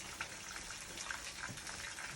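Water boiling up in a pot of rice, a steady bubbling, gushing wash of noise with small pops throughout, close and moderately quiet, no voices.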